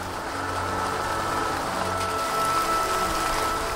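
Steady rain falling at night, a dense even patter of drops on surfaces with a low rumbling hum underneath, continuous and moderately loud.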